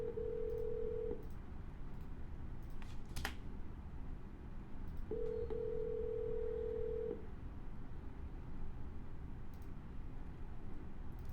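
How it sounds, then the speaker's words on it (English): A phone call rings out as two long, steady, low ringback tones separated by a gap, with a brief click between them over faint room hiss. "All right, and we are dialing."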